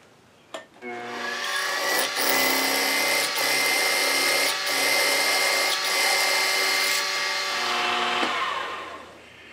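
A power drill boring holes in wood whines steadily for about eight seconds at close range, with a few sharp clicks as it bites and a clean stop at the end, no talk.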